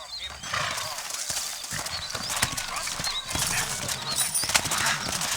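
Rhythmic clip-clop of horses trotting close by with an occasional whinny in the video game Red Dead Redemption, steady and fairly loud, with some talking mixed in.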